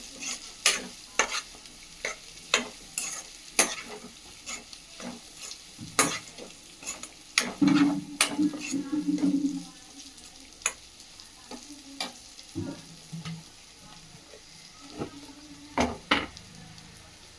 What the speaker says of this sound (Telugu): వేసుకొని ఒకసారి మిక్స్ చేసుకుందాం.